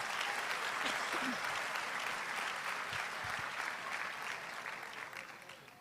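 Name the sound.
church congregation applauding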